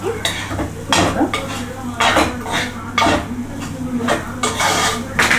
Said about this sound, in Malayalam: ഒന്നുകൂടെ നന്നായിട്ട് ഇളക്കി കൊടുക്കാം.